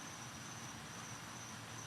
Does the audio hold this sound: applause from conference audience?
no